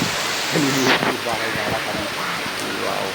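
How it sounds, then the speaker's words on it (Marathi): Heavy, intensifying rain in a thunderstorm makes a loud, constant roar with a low rumble of thunder beneath it, while a voice briefly sounds under the downpour. "पावसाचा जोर वाढतच चाललेला आहे."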